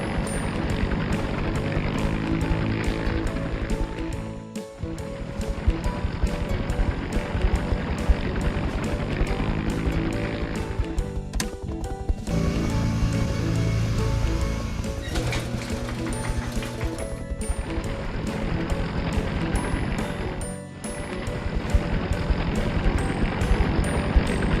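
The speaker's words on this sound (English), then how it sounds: "Now, here is a large cargo helicopter. Now it's his turn to fly." A large cartoon cargo helicopter flies in a children's animation, its rapid rotor chop and engine drone steady and loud throughout, with a couple of brief dips and no speech over it.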